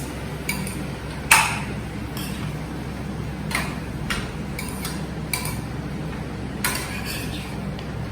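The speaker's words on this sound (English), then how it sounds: "Stir like this." Bottle gourd cooking in milk is stirred in a pot, producing scattered spoon clicks and metallic taps over a low, steady background hum, with one sharper knock early on.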